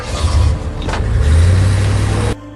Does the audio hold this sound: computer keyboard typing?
no